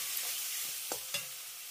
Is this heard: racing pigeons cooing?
no